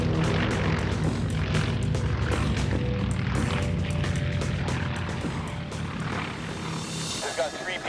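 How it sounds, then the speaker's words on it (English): A Cold War-era Grumman Firecat retardant bomber flies over a mountain wildfire. Its engines give a steady droning roar, with a voice talking over the engine noise throughout. "these Cold War-era Grummins remain unchallenged in their new role as Firecat retardant bombers"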